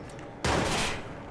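Gunfire in the video game Watch Dogs: a sudden loud burst of shots erupts over steady background noise and rolls on for about a second, no speech.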